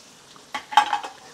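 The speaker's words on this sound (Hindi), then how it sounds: "सभी चीज़ों को आपने देखिए तेज़ आंच पर ही फ्राई करना है ताकि सब्जियां हमारी नरम नहीं पड़े" Finely chopped capsicum and onion hit a pan on high heat, giving a brief burst of sizzling with a couple of quick stirring scrapes, close and fairly quiet.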